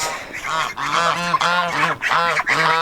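Farm geese honk loudly and repeatedly beside their goslings near a pond, a close, overlapping series of nasal calls with no talking.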